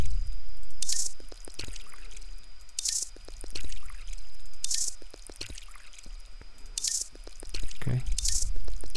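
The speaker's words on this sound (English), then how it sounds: "Let's water these bad boys." Watering cans pouring onto plants in Drug Dealer Simulator, repeated splashing drips and squishy water bursts at intervals over a low background hum.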